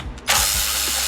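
A ratchet turns a Snap-on wobbly 1/4 inch socket during a spark plug replacement on a 2008 Ford Taurus, giving a brief, close burst of mechanical ratcheting after a few faint clicks.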